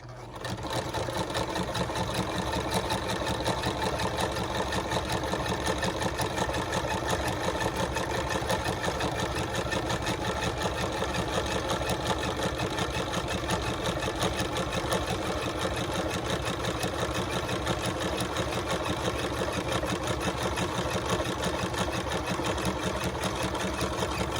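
A sewing machine stitches a journal cover continuously for about twenty-four seconds, a loud, steady, close mechanical whir with no breaks.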